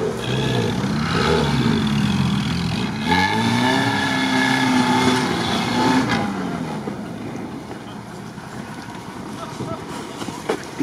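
A UAZ off-road vehicle engine revving hard while climbing a diagonal rough obstacle of rocks and concrete, rising and falling in pitch, close and loud with wind buffeting and people talking over it.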